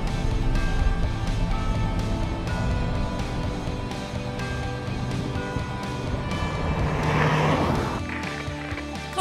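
Subaru Impreza 2.0i-S sedan driving on a test lap, its engine and road noise steady and loud with a persistent whine running throughout, rising in intensity near the end.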